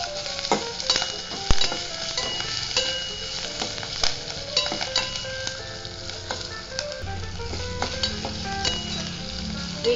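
Curry leaves, potatoes and jowar upma sizzling in a pan while being stirred, a continuous crackling sizzle with frequent scraping and clinking spoon strokes, close and fairly loud.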